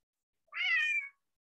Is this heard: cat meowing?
yes